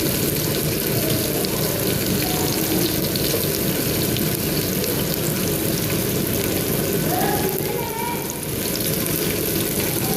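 Chopped onion and ginger frying in hot ghee in a pan, a steady dense hiss and crackle that stays loud and even throughout.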